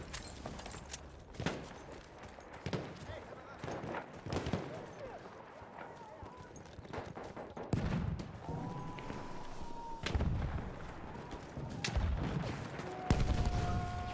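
Gunfire from Battlefield 1 team deathmatch play: scattered single shots and short bursts of varying loudness over about fourteen seconds, with footsteps and game noise running between them.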